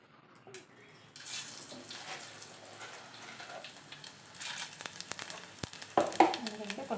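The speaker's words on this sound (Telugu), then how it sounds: "కూర నేను పోపు చేస్తాను" Spices for a bottle gourd curry temper in hot oil in a home kitchen, a crackling sizzle that swells and pops toward the end, with occasional clinks of stirring and no talk.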